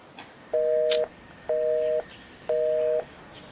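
Three evenly spaced electronic phone tones repeat with short gaps between them, a call ringing out unanswered, fairly faint and alone with no voices.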